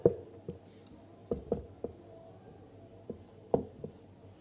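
A pen writes out Raoult's law by hand in short, irregular scratches and taps, close up, with quiet gaps between strokes and no speech.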